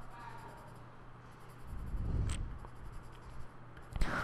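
A pen shading squares on paper, a soft scratchy scribbling that swells in the middle and trails off, quiet and close with no talking.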